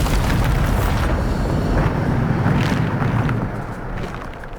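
A Bombarda blasting spell from Hogwarts Legacy detonates in a sustained, loud, rumbling roar with heavy low-end boom and debris-like crackle, holding strong for several seconds before easing off slightly at the end.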